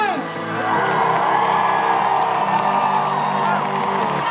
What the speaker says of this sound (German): Applaus für Vincent Provinz